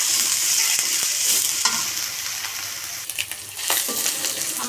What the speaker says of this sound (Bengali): আমি এখানে চিংড়ি মাছ দিয়ে দিলাম। চিংড়ি মাছটা একটু ভেজে নেব।